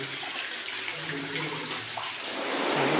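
Water flowing steadily at a spring at the upstream source of a river in a village in Pacitan, a continuous broadband rush, fairly close and even in loudness throughout.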